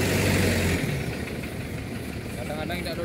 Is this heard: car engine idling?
yes